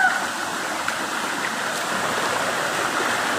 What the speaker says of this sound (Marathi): उंच एकदम उंचावरून पाणी येतोय.